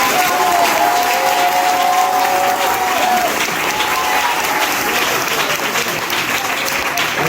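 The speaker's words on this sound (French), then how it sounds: "je te prie encore d'acclamer le roi des rois" A church congregation in Côte d'Ivoire applauds and cheers for the king of kings, sustained loud clapping and crowd noise with a few voices rising above it, filling the whole stretch without letup.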